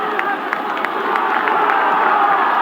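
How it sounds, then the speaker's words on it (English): Crowd cheering at a 1990 rugby league match between the Kangaroos and Cumbria: a dense, sustained roar of many voices at steady loudness, with faint higher shouts poking through. "The crowd's getting behind them"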